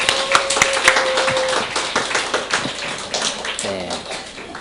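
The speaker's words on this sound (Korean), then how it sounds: "세 분에게 감사의 박수" A church congregation claps in thanks during a Sunday service, a short burst of scattered hand claps with some voices murmuring in the room.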